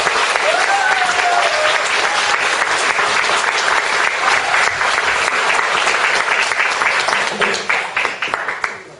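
Indoor audience welcoming a speaker with loud, dense, sustained applause, many hands clapping steadily, with a faint tonal sound early on before the clapping tapers off near the end.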